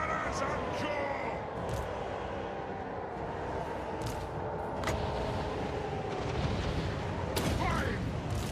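Cannon artillery fire during a Total War: Warhammer 3 battle: a few sharp, booming reports stand out against a dense, continuous roar of combat, with voices shouting over the din.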